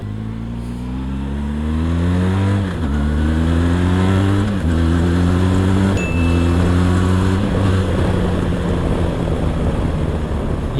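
Benelli TRK502X motorcycle engine revving up through several gears, each rising pull cut by a brief dip at the shift, loud and close with steady wind and road noise.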